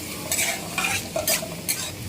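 Onions frying in a pan for chicken kosa, a steady close sizzle broken by several bursts of stirring scrapes spaced roughly half a second apart.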